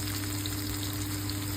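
Sardines frying in a pan in the oil rendered from the fish, a steady, dense, close sizzle with fine crackle that holds at an even level throughout, with no voices.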